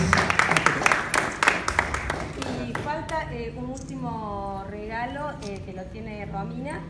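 Audience applause at a legislature award ceremony gives a few seconds of moderate clapping that fades under a voice as he speaks into a microphone.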